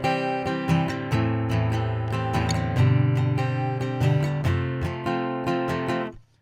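Acoustic guitar alone plays the opening intro of a song, with steady strummed and picked chords ringing clearly and close, ending with a brief fade to silence.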